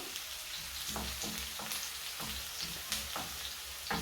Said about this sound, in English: After we've put in our garlic and onions, we let them brown a bit.